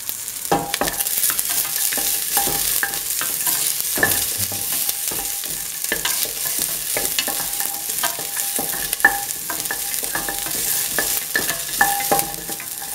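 Ginger and garlic fry in a hot pan with a constant crackling sizzle up close, broken by frequent sharp taps and scrapes as they are stirred. No one speaks.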